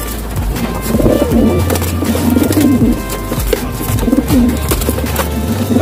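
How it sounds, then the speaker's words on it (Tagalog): Several pigeons coo repeatedly in low, burbling phrases, overlapping one another nearby against a constant low rumble. "Ito yung sabong ng mga kalapati."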